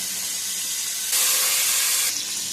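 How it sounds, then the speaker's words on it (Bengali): Potatoes frying in a pan of hot oil for homemade kacchi biryani, a steady close sizzling hiss that swells louder partway through and then eases back, with no talking. "এই যে আগে আলু ভেজে নিচ্ছি এইভাবে"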